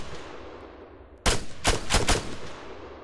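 Rifle fire in the Arma 3 video game: four sharp, loud shots come in an uneven burst over about a second, standing out against a steady background hiss.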